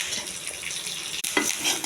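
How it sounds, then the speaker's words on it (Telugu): Tempering of chana dal, mustard seeds, cumin and curry leaves frying in hot oil, a steady close crackling sizzle with a brief dip and a few sharper pops near the end. "ఇవన్నీ తాలింపు చేసుకుని ఒక గిన్నెలో తీసుకోవాలండి."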